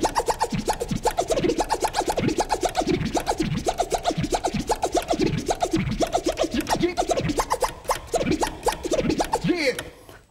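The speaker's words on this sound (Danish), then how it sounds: "lave lidt rytmisk scratch på crossfaderen." Rhythmic DJ vinyl scratching on the crossfader, chopped into punchy, evenly spaced bursts, with swooping pitch sweeps, loud and up front throughout.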